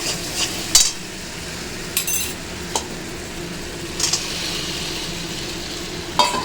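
Potatoes hit hot spiced oil for aloo dum and sizzle with a constant, close hiss, while a utensil stirs and clinks against the pan in scattered taps.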